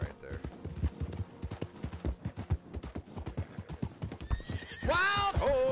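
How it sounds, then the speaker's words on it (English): A horse in the Red Dead Online video game clip-clops close by in a rapid, steady hoof rhythm, then lets out a loud, high neigh near the end, with talk partly overlapping. "Horses!"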